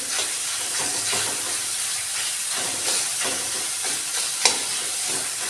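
Tomatoes fry in a pan with a steady, close hiss and sizzle, while a utensil stirs them with soft scrapes and one sharp clink.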